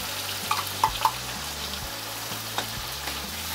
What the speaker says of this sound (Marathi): चांगला भाजून घ्यायचा तेलामध्ये बघा मसाला आपला